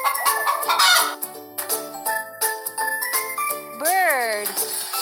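Chicken clucks mix with bright children's game music, then a rooster crows near the end, a loud rising-and-falling call over the tinkling tune.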